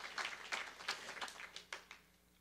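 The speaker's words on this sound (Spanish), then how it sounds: "Denle un aplauso fuerte al Señor en esta hora." Church congregation applauding during a Spanish-language sermon, a quiet, fairly distant wash of steady clapping lasting a couple of seconds with a few louder individual claps standing out.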